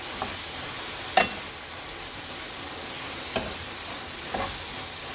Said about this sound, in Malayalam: ഇനി ഇതൊക്കെ നന്നായി ഇളക്കി ചേർത്തിട്ട് അവിടെ മൂടിയിട്ട് വെക്കാം